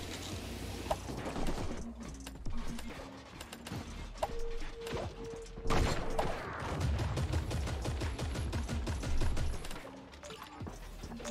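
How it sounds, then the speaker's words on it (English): Sniper gunfire in the Creative Destruction video game comes as scattered sharp shots and clattering bursts, moderately loud against a busy game soundscape, with no voices. "Yo, someone's sniping."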